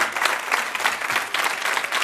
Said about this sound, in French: vous avez raison, on peut l'applaudir, parce que Mathias